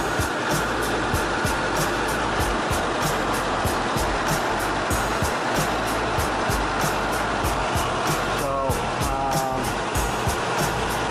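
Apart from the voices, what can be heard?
noisy worn car wheel bearing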